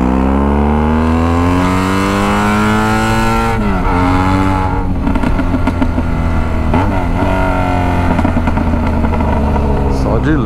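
A BMW F800GS motorcycle engine idles and revs loudly up close in a street setting, its tone rising and falling in several throttle blips throughout, with voices talking over it.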